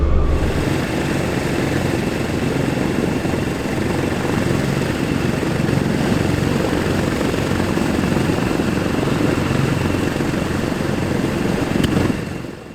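A Douglas DC-6 number 4 piston engine on a ground run roars steadily and loudly throughout, a dense continuous drone with a low rumble, cutting off abruptly near the end.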